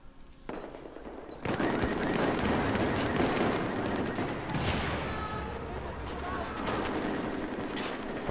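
Dense gunfire and explosions from Battlefield 4 multiplayer, a loud continuous barrage of shots with bursts of automatic fire, with talk mixed in.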